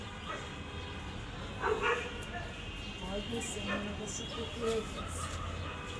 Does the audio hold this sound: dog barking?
yes